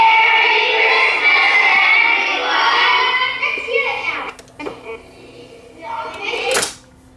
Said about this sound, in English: Kids singing.